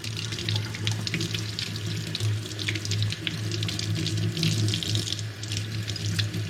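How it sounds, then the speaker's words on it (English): Steady running tap water rinsing dirt and loose rust off a small old iron artifact dug up while metal detecting, a continuous close splashing flow with no voices. "We're going to get all the dirt rinsed off of here, any of the loose rust"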